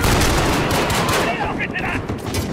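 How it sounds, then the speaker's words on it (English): Heavy automatic gunfire from a machine gun during a Call of Duty: Modern Warfare campaign battle in London, a loud, dense, continuous burst filling the whole stretch with battle noise. "How did they even get a machine gun up there"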